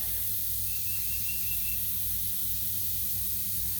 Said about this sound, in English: So here I'm just giving the cuttings a good mist and watering in the soil at the same time.